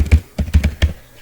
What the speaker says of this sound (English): So here I'm typing